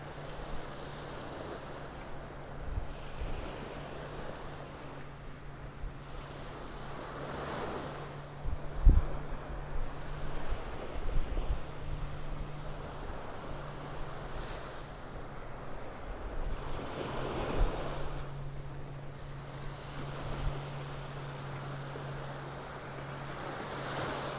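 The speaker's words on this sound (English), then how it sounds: "That wind coming out of the northeast is gusting up to 24 miles an hour at times." Waves roll steadily onto a North Naples, Florida beach while a northeast wind gusts up to 24 miles an hour, roaring in surges and buffeting the microphone with low rumbles, no voices present.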